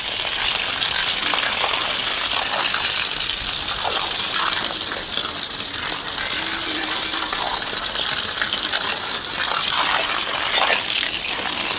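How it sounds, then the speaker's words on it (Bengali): Water sprayed onto dried-out eggplant plants in a home garden, a steady continuous splashing and hiss held at an even level throughout, close by and with no voices. "আমরা এখন জল দিচ্ছি বাগানের মধ্যে বেগুন গাছে"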